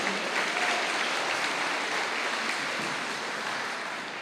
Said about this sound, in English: So come on and give yourselves a hand clap.